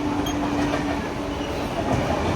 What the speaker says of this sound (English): Till the time the train stops, then we go down.